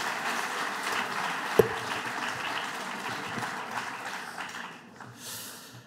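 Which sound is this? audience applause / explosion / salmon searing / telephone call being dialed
audience applause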